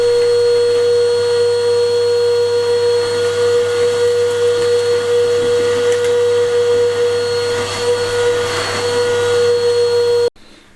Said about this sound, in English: just vacuuming out the cave and the entrance to the cave